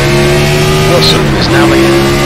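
Race cars in iRacing at Phoenix roar off at the green flag, a dense, loud wall of engine drone with tire noise, heard under a voice talking.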